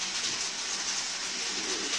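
A long OO gauge model railway train runs around a layout track, producing a continuous light rumble and faint clicking rattle at moderate level, steady for the whole moment with no voices.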